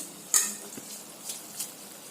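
Washed samai millet rice and moong dal go into boiling water and are stirred, giving a few quiet close clinks and scrapes over a faint bubbling hiss.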